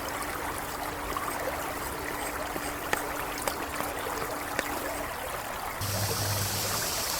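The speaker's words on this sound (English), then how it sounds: "Add cumin seeds and allow it to splutter." Cumin seeds spluttering in hot oil in a cooking pot make a steady, close sizzle with a few sharp crackling pops, and no one speaks.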